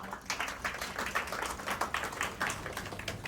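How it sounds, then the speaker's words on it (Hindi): An audience at a book launch event gives a brief burst of lively applause, many hands clapping together in a dense, even patter in a hall for a few seconds. "हाँ बजा सकते हैं आप तालियां"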